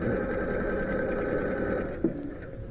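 A sewing machine runs steadily, stitching a seam for a beginner's step-through project, its motor hum continuous and close with a brief clunk near the end and no talking.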